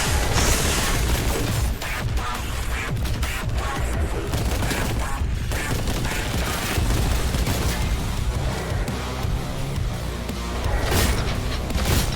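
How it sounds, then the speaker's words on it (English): Heavy weapon fire and explosions in Warhammer 40K Boltgun, a loud, dense barrage of blasts, booms and crashes running continuously throughout. "Well, I do have melter gun."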